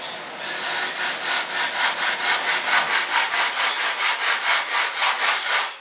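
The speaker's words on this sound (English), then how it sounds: "Cleaned up very little with the sanding block." A sanding block is rubbed back and forth over a foam RC model of an F-105 Thunderchief jet, making a close, steady, rhythmic rasp of about twenty even strokes.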